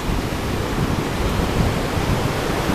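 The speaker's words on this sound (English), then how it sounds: "I don't know, if the video will be able to catch the sound of the river" A river flows steadily on the mountain trek from Phakding to Namche Bazaar in Nepal, a continuous broadband rush of water that stays loud and unbroken throughout, with no voices.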